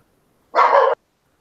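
A dog gives a single short, loud bark that stands alone against silence.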